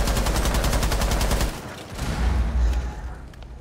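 Rapid automatic gunfire from the video game Rainbow Six Siege, a loud sustained burst of shots followed by a pause and a few more heavy reports and booms.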